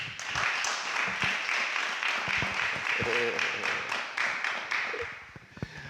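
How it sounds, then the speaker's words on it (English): Applause from an audience fills the room, dense steady clapping with some cheering mixed in, tapering slightly near the end. "And one big round of applause for the man of the moment"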